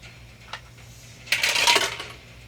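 Dice clatter and roll across a tabletop during a Dungeons & Dragons session, a brief faint tap followed by a louder rattling tumble lasting under a second, close by with no talk.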